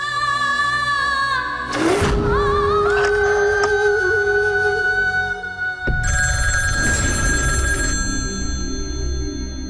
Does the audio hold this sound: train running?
no